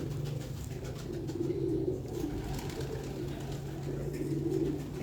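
A champion pigeon coos on a rooftop in Sialkot, Punjab, a steady low murmuring coo repeating throughout, close and continuous against a light background hum.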